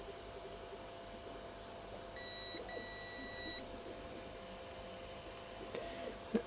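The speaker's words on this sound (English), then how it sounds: "Now let's just beep the diode." A multimeter sounds a short high continuity beep, two quick tones in a row, while testing a diode on a VIC-20 cassette port board, faint over a quiet room hiss, followed by small handling clicks.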